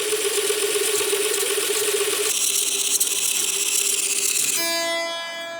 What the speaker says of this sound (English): 240 BPM. We're playing a 30-second note.